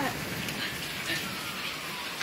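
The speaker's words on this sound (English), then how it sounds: "Dang it, it's dying now. The rain." Steady rain hisses down during a summer thunderstorm, a dense, constant wash of drops close by with no clear thunder.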